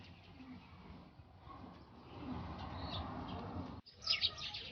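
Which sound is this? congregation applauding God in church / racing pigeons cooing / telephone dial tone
racing pigeons cooing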